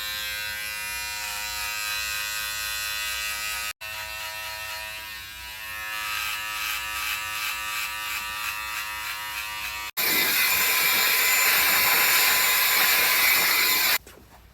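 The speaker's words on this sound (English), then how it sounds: "Come back with the trimmer and clean it up again." Electric hair clipper buzzing steadily through a DIY haircut, a loud close motor whine that cuts out briefly twice and shifts to a harsher, brighter tone as it works through hair.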